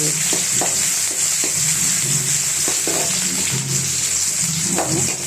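Onions frying in a pan give a steady, loud sizzle throughout, with occasional soft stirring knocks over the hiss, close up and with no one speaking.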